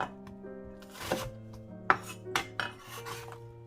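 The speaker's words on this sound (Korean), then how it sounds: "양파를 반으로 잘라서 반 개만, 반 개만 깍둑 썰기로 이렇게" A knife dices half an onion into cubes on a board, several crisp, uneven chops standing out over a steady background tone, with no talking.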